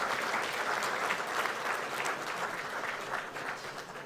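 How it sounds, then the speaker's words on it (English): A steady round of audience applause at a deep-tech startup incubator event, dense and sustained clapping from a crowd of listeners for the presenting startup teams, fading slightly toward the end. "I think they deserved a much bigger round of applause from you all."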